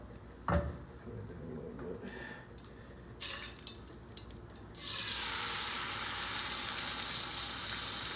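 Chicken pieces go into a hot pan and start to fry, with a few clinks and light drips at first and then a sudden, steady loud sizzle that keeps going to the end.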